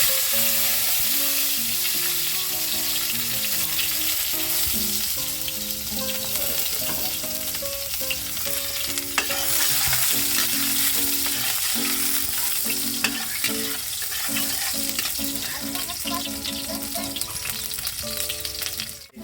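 Pork intestine (isaw) and garlic frying in oil, a continuous close, loud sizzle with crackling pops and the scrape of stirring throughout, no talk.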